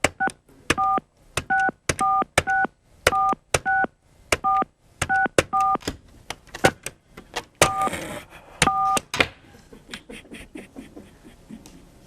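A telephone number dialed on a touch-tone keypad: a quick, rhythmic run of about twenty clear dual-tone beeps grouped in short bursts. The beeps end in a rush of rustling noise.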